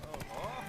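Quick hoofbeats from a horse in The Witcher 3 game patter in a brief burst, a few close clops under game noise and a voice talking over them.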